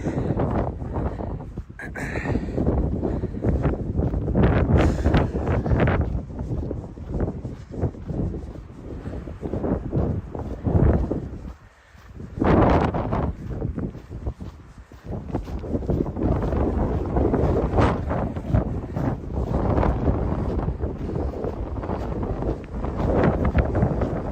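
Wind gusts blowing across an outdoor trail during a run, a steady broadband rush with swells and brief lulls, interrupted by handling noise.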